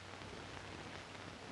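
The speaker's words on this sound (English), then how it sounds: "What, in this rain?" Rain falls in a classic Hollywood film scene, a steady soft hiss of downpour with a low rumble beneath, unbroken and faint, with no voices.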